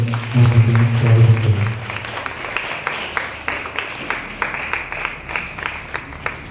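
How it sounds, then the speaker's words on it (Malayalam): A congregation applauding in a church, a spread of scattered claps over a room tone that follows a brief musical swell, the clapping moderately loud and loosely rhythmic. "നല്ലൊരു കയ്യടി നൽകിക്കൊണ്ട്"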